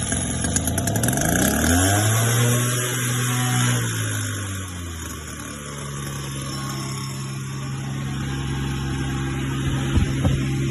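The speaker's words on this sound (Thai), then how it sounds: "เครื่องยนต์ก็ติดเป็นปกตินะครับ" A small two-stroke crop sprayer engine sputters to life with a rising pull, then settles into a steady, buzzing idle that runs on continuously.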